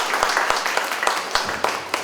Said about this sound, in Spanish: un último aplauso antes de que empiece